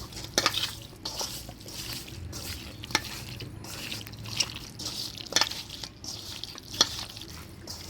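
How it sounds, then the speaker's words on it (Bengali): Chicken is mixed by hand with ginger, coriander-cumin and chilli pastes, crushed garlic, sour yogurt, turmeric, salt and mustard oil, making wet squelching stirs and light clinks against a bowl, close and steady, with no speech. "মাংসটা ভালো করে মাখা নিলাম সব মশলাপাতি দিয়ে।"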